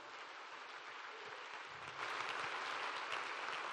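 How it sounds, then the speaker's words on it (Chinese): Audience applause at a corporate leadership training meeting, a dense continuous wash of clapping that swells louder midway and holds steady, heard at a distance with no talking over it. "我们真的需要给我们的史莱斯一个掌声来。"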